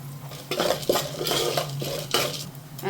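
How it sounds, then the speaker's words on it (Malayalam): Sago roasting in ghee in a metal pan, stirred with a spoon in repeated close scraping and clinking strokes over a faint sizzle and a steady low hum, with no talk. "ചവ്വരി നെയ്ക്കകത്ത് മൂപ്പിക്കുക"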